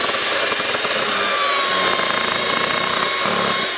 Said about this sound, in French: Je vais brancher ma ponceuse.